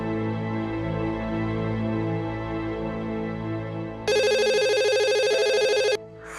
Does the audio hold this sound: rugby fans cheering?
no